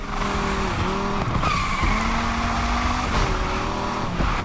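Tires squeal in long sustained whines as a car drifts in NFS Unbound, several sliding screeches in a row over a loud, continuous engine roar, with no voices.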